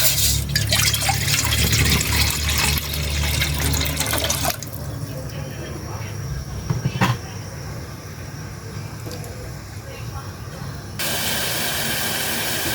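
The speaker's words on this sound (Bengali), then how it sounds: "এখন আমি পরিমাণ মতো পানি দিয়ে দেব।" Water is poured into a pan on a lit gas stove to make plain tea, giving a loud, steady rushing splash that gives way to a quieter hiss.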